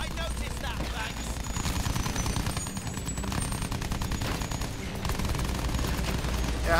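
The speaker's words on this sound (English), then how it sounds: "Incoming fire!" Incoming gunfire in Battlefield 1, a World War I shooter: dense, continuous volleys of rifle and machine-gun fire with steady crackling bursts, loud and close, alongside a voice speaking.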